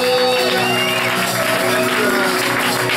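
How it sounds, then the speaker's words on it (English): Church congregation in a worship service applauding and cheering loudly and continuously, with shouts and whoops mixed into the clapping. "Somebody give thanks to God by a hand clap."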